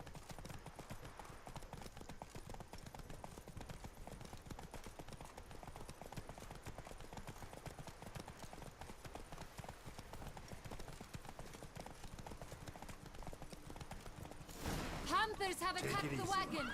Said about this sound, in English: You guys should be galloping, not cantering.